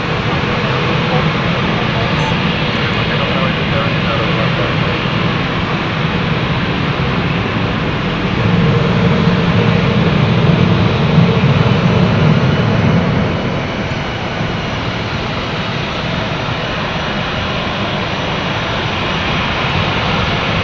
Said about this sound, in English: The Milan flight now taking off, folks.